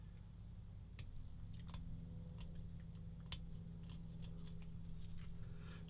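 Cutters snip parts from the sprue of a 1/35 Bronco Mk XXIII submarine plastic model kit, several faint sharp clicks spaced irregularly over a low steady background hum.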